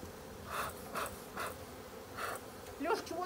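Bees buzzing at a beekeeper's apiery hive during a first honey harvest, several loud swelling buzzes as insects fly close past, with brief breathy sounds near the end.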